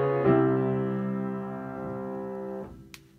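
A sustained chord containing a tritone, played and held for about two and a half seconds before it cuts off, then a brief click; steady harmonic tones with no talking.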